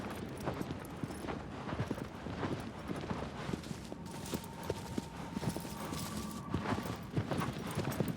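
Horse hooves clip-clop steadily in Shadow of the Colossus, a continuous rapid galloping rhythm, close and fairly loud throughout, with game ambience and a faint tonal hum beneath.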